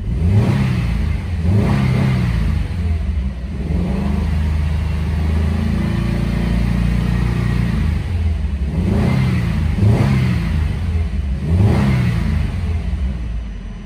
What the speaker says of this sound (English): We'll rev up the engine.